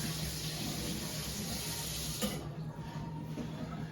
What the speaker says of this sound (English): I run the blade under really hot water